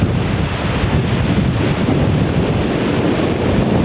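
Loud, constant roar of wind buffeting the microphone mixed with crashing sea surf during Hurricane Hugo on St. Croix, with no voices heard.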